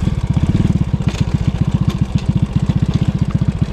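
A motorcycle, nicknamed Lambertinha, chugs up a mountain road of loose stones and gravel with a loud, close, rapid and steady low engine pulse and no talk.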